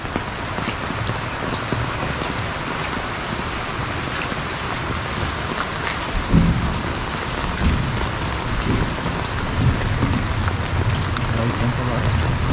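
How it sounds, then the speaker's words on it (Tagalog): Heavy rain pours steadily during a typhoon at a house construction site in Malasiqui, Pangasinan, a dense continuous hiss with faint low rumbles, close and loud throughout. "So maulan na vlog ito"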